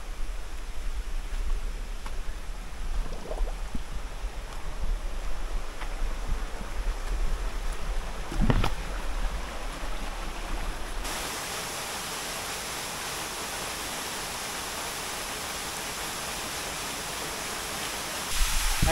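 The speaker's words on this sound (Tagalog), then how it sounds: "Nadadaanan pa tayo na isang magandang parang maliit na waterfalls." Small waterfall in a creek, a steady broadband rush of falling water that stays fairly loud and continuous throughout, with a brief splash or knock partway and no talking.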